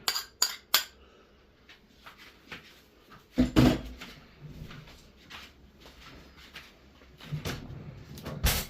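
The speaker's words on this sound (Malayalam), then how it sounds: "അപ്പോൾ ഇതിനകത്ത് നമ്മൾ ഒരു സ്പൂണ് ജിഞ്ചർ ഗാർലിക് പേസ്റ്റാണ് ഇടുന്നത്." A metal spoon clinks and scrapes against a cooking pot as a spoonful of ginger garlic paste goes in. The taps come in several distinct knocks, close and fairly loud, with quieter stirring scrapes between them and no voices.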